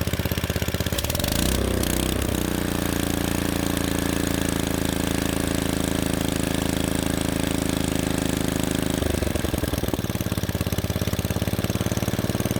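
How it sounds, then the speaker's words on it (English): A Kohler K91 small engine runs steadily at close range, loud and continuous, its pitch rising as it is throttled up and then shifting near the end as the revs change. "I just want to get it running, so let's throttle it up."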